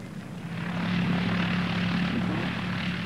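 A Gloster Gladiator biplane's propeller engine drones steadily and fairly loudly throughout, a continuous rumbling hum with no speech over it.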